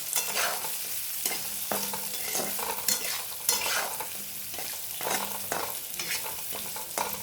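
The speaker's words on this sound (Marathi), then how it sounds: "मीठ टाकायचं आणि सर्व व्यवस्थित परतून घ्यायचं" Vegetables stir-fried with salt in a pan make a continuous close sizzle, with repeated rhythmic scrapes and clinks of a spatula turning them, fairly loud and with no voices.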